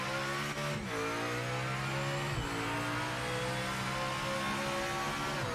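A hypercar engine revs steadily in the racing game Project Motor Racing, its harmonics rising and dipping through gear changes, loud and continuous throughout with no talking.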